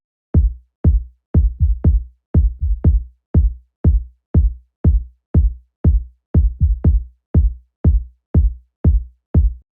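Filtered, muted kick drum in a steady four-on-the-floor pattern, with softer lower-velocity ghost hits tucked between the main beats, deep thuds repeating evenly and alone throughout.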